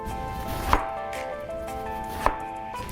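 A knife cuts through a peeled eggplant on a cutting board in a few sharp, separate chops, with a gap of about a second and a half between strikes and quiet kitchen background in between.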